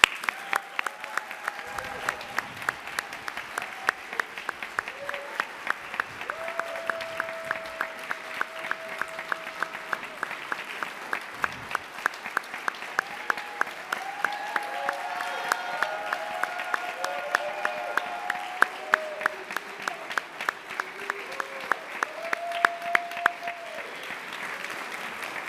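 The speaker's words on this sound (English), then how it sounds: "I want to give him a big round of applause, Councilmember Costa Constantinides." Long, steady applause fills a city council chamber, dense clapping mixed with sharp individual claps, while voices talk over it now and then.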